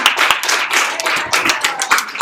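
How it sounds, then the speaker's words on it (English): A classroom audience claps for a student receiving an award, a quick burst of close, uneven hand claps with faint voices mixed in. "Please clap for them."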